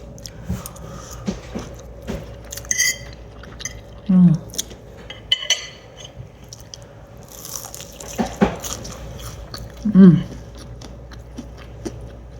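Someone eats fried rice with chicken and onion that still has some crunch, the chewing soft and close with occasional faint crunches and a couple of louder bites, against light kitchen background noise.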